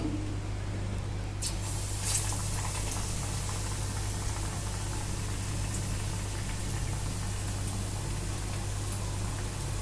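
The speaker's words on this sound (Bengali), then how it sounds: "এবার বেসনের এই ব্যাটারটায় ডিপ করে তেলে দিয়ে দেব।" Besan-battered potol chop deep-frying in hot oil, a steady dense hiss and crackle running throughout with a persistent low hum underneath, no voices.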